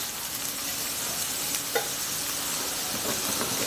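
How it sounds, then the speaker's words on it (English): Zucchini noodles frying in melted butter in a pan give off a constant loud hiss, with a single short clink partway through and nobody speaking. "I'm going to grab my zucchini noodles here and I'm just going to throw them in the pan"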